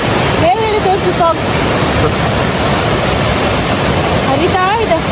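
Rainwater pours over Bangara Kusuma waterfall near Honnavar in a steady, loud broadband rush that fills the whole scene, with brief voices talking over the roar.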